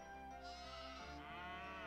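Sheep bleating in the video game Anno 1602, a sustained, wavering bleat lasting nearly two seconds, loud and close, heard alone without any talk.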